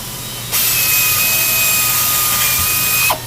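A power drill boring holes into a metal freezer panel whines loud and steady for about two and a half seconds, then stops abruptly.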